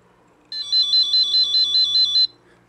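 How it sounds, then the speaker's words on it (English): A motion sensor's electronic sounder emits a rapid series of bright, high beeps in a steady warbling pattern for under two seconds, then stops. "the sounder on the device will make a sound to show that it's been"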